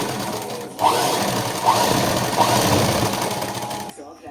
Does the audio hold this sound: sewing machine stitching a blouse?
yes